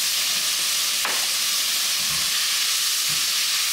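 Vegetables seasoned with salt and pepper cook down in a pot for lasagna soup, a dense, loud steady hiss of sizzling with a brief scrape and a couple of low thumps.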